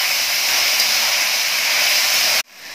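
Finely chopped onions and tomatoes sizzle in a hot pan, a steady loud broadband hiss of frying that runs continuously, then drops sharply to a quieter sizzle near the end.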